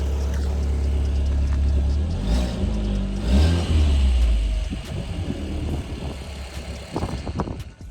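An Audi TT engine fitted with a cheap eBay decat downpipe, on a cold start, revs up in a couple of deep, loud swells and then settles back to a rough, vibrating idle with no talking.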